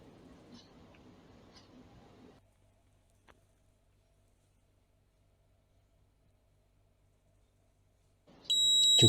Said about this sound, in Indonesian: akses tidak diizinkan, buzzer pun menyala.